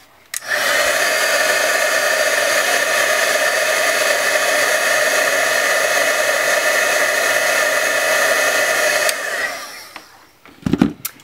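Heat embossing tool blowing hot air over dazzling diamonds embossing powder on a metal brad: a steady, loud, broadband whir that runs unbroken for about eight seconds, then cuts off, followed by a few faint handling clicks.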